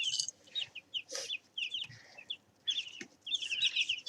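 Six-day-old chicks in a brooder give soft, high peeps and short chirps in scattered bursts, fairly faint and close, with no voices.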